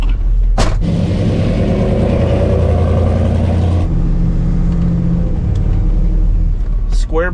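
An LS-swapped 1987 Chevy K10 squarebody truck engine rumbles loudly and steadily on a test drive, a deep continuous drone close by, with a brief sharp sound near the start and a voice briefly at the end.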